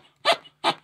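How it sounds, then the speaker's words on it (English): A Beast Boy Super Tooter toy figure from Teen Titans Go! gives two short, breathy squeaks like a dog toy as air is pushed out through holes in its feet. The squeaks come close together, near and fairly loud. "I really expected this to sound like a whoopee cushion. This sounds like a dog toy."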